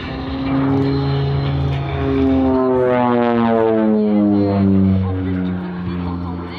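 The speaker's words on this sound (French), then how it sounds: "En fait, on dit que c'est un avion bipoutre." A North American OV-10B Bronco twin-boom turboprop flies a display at the Gap-Tallard air show, its engine drone loud and close with a pitch that shifts steadily as it passes, while someone talks over it.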